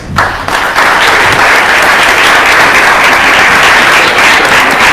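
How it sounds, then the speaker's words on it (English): A packed crowd at a New York photography museum event celebrating African queerness bursts into loud, dense, sustained applause for the models, a thick roar of clapping that rises quickly and holds steady. "Please give them a round of applause."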